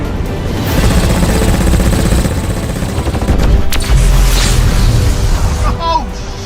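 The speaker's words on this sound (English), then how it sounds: "let's see what this cannon can really do for a proper big finish" Heavy spaceship cannon fire in the space game Star Citizen, a dense run of booming blasts over a constant loud rumble, with a sharp crack near the middle and ringing tones fading at the end.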